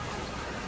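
Rain falling steadily during a Ganesh festival decoration setup in Lalbaug, Mumbai, heard as a soft, even hiss of drops with no break, continuous throughout.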